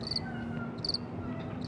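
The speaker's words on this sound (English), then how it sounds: "You could hear crickets." Crickets chirp in short, high pulsed bursts that repeat roughly every second, fairly faint over a quiet low background hum with no voices.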